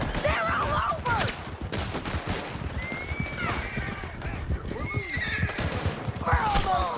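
Horses neigh and whinny over galloping hooves during a chaotic shootout in the video game Red Dead Redemption 2, with bursts of gunfire, loud and continuous, and people shouting over the commotion.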